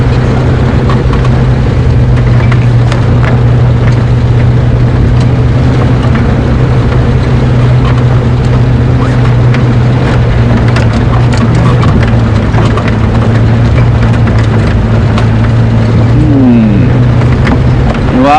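Safari vehicle driving along a game reserve track toward Buffelshoek Dam at Djuma Game Reserve, its engine a steady loud low drone throughout with no voices.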